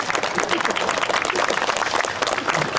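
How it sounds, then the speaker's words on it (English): A crowd at a school ribbon-cutting ceremony applauds with dense, steady clapping that stays loud and continuous throughout. "How about a round of applause?"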